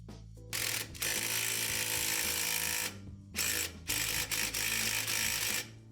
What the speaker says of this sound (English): Now with my impact driver to get this started, I got my lug pushing my nut, pulling the stud into the hub.